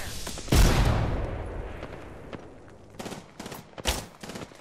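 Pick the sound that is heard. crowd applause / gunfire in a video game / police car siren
gunfire in a video game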